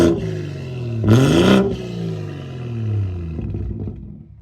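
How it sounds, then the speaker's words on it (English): A BMW 340i fitted with a Pure 800 turbo upgrade revs hard, its engine note climbing to a loud roaring peak and falling away, then rising again in a second, softer rev, with no talk. "You could probably hear the turbo."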